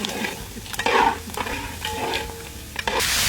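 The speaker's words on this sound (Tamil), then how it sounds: "வெங்காயத்தை போடுறாங்கண்ணா." Chopped onions tipped into a hot pan for a home-cooked dish, hissing and sizzling steadily with a few clinks and scrapes of stirring utensils against the pan, close and moderately loud with no talking.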